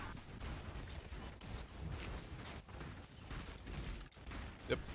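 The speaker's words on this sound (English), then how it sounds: "I hear explosions. That means we have Scorch and we have pops." Scorch explosions and rapid pops from a +6 Searing Bond Staff in a video game, a dense, steady barrage of overlapping blasts and crackles with one sharper pop near the end.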